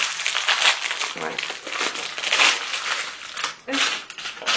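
A small AliExpress package being torn and opened, with loud crinkling and crumpling of plastic wrapping in uneven bursts, close up, while a person talks over it.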